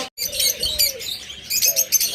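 Pet birds on a breeding farm, including split blue birds, chirp and tweet in a dense, close chorus with no voices.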